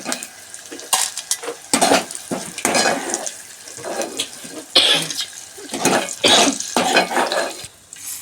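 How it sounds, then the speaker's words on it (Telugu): Green chillies fry and sizzle in a pan while a utensil stirs and scrapes against the metal in irregular bursts, steady and close with no talking. "పచ్చిమిరకాయలు అయితే బాగా ఎగిపోయండి"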